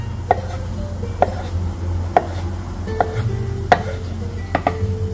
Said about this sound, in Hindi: नाइफ से इसको छोटे छोटे डम्पलिंग्स में ऐसे